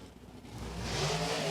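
Race cars launch down the front straightaway of a dirt track race, engines revving up and building into a rising, loud roar over about a second and a half, with no voices.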